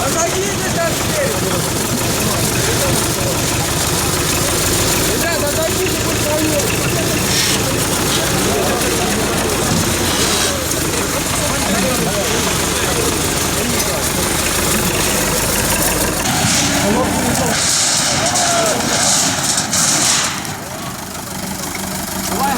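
A tractor engine idles loudly and continuously up close while several people talk and shout over it outdoors, the rumble dipping briefly near the end.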